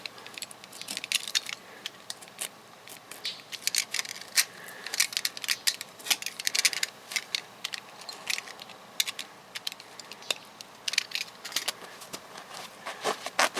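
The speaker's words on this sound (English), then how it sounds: "I'm just going to cut a little X in there with a brand new blade." A brand new, sharp blade slicing an X into vehicle upholstery for a Chevrolet BrightDrop armrest install: quiet, irregular scratchy cuts and small rustling clicks in close succession, with no talking.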